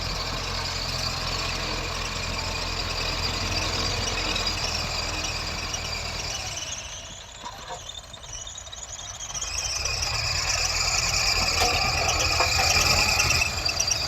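A Russian tractor pulling a three-tine chisel plough runs under load, with a loud continuous engine drone and high squealing that dips briefly midway, then swells back to full strength.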